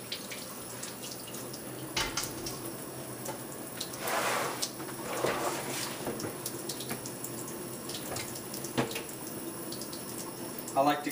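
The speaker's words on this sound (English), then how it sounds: "you just take your ballistic gel and you use cold water and you just rinse it off" Cold tap water runs over a block of ballistic gel being rinsed clean of debris, a steady close splashing stream with louder gushes and swells as the gel is moved under the flow.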